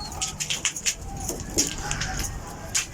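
Pigeons in a loft make scattered short calls and wing flutters, fairly faint, with intermittent high chirping bursts and low background rumble.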